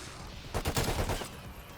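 An HK21 machine gun fires a short, rapid burst in the Cold War Zombies video game, a brief rattle of shots fairly quiet in the mix.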